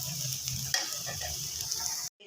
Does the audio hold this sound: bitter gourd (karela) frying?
yes